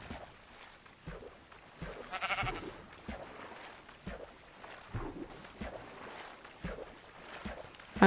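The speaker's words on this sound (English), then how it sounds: "I will stay in the water with the sheep" Minecraft sheep bleating while the player stays in the water, several short bleats spread across the clip alongside game sounds and splashing, moderately quiet.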